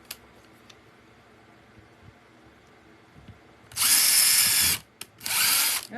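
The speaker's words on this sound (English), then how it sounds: "I have my drill here, and I'm just going to drill a hole" Power drill boring a hole through a resin keychain, two loud close whining bursts of about a second each separated by a short pause, after quiet room tone.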